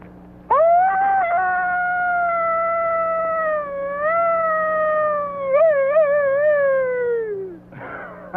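A person imitates a coyote howl, giving one long, loud, sustained wavering call that slides upward, holds, warbles, then falls away, alone over a faint background hum.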